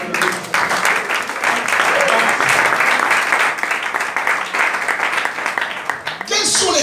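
A church congregation applauds loudly and steadily during a service, a dense wash of clapping that holds for several seconds before tapering, with voices mixed in beneath.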